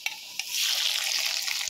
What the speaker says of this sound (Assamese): এয়া কলডিল ভাজি আৰু মাংস দি